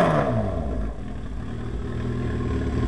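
A 2006 Suzuki GSX-R 1000 motorcycle fitted with a Hotbodies MotoGP slash-cut exhaust revs up briefly and settles into a steady, throaty engine drone, recorded up close with no talking.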